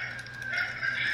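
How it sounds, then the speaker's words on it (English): Chickens call out at 3 in the morning in the Philippines, a brief, fairly faint crowing and clucking cry with no voices. "going to hear these animals, chickens and dogs, making all kinds of noise at 3 o'clock in the morning"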